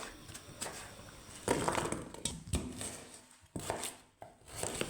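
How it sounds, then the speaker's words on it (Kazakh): Beetroot is chopped with a knife on a board for a homemade drink, a series of irregular crisp thuds and crunchy cuts heard up close with no talking. "Одан кейін қызылшамызды турап ыдысымызға саламыз."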